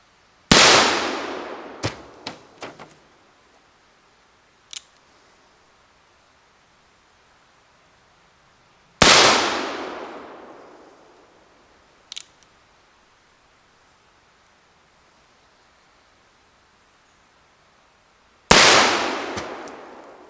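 An Uberti 1849 Pocket Model revolver fires at bottles: three loud, sharp shots spaced widely apart, each with a long ringing decay, followed by smaller cracks and clinks of hits and breaking glass.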